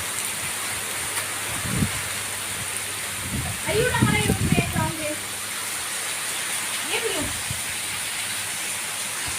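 Steady first rain of the season hisses in the background throughout, with a few voices and brief sounds rising over it in the middle.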